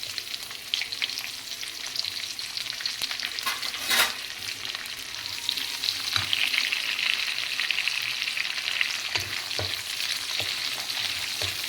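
Onion frying with whole garam masala in a kadai, a continuous close sizzle broken by occasional scrapes and knocks of a stirring spoon against the pan, with no talking.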